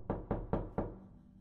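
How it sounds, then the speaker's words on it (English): Four firm, evenly spaced knocks on a door, close and resonant, followed by a brief fading hum and quiet, with no voices. "The knock came again."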